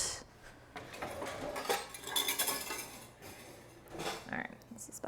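A spatula scrapes and clinks against a pot while stirring a sticky marshmallow rice crispy mixture for matcha treats, with irregular metallic knocks and a voice speaking over it at close range.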